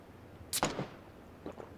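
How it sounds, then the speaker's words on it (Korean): A single sharp crack of a gunshot in the video game PUBG rings out, followed by a brief echo and faint clattering a moment later, with no talking. "총소리만 났어요. 딱."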